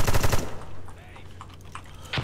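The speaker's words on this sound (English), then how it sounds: "I'm getting shot from the left." Rapid automatic gunfire in the video game America's Army: Proving Grounds, a loud close burst that cuts off into quieter distant shots and clatter, with a final sharp crack.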